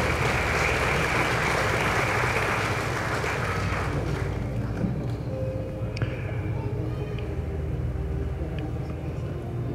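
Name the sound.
applause at an engineers' induction ceremony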